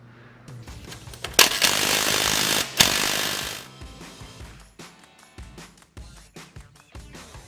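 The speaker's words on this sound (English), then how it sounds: "Hopefully my impact driver will do the job here." Impact driver removing bolts from a leaf spring plate under a 1992 Jeep Wrangler YJ, two loud bursts of rapid hammering, then quieter ratcheting clicks and tool handling noises.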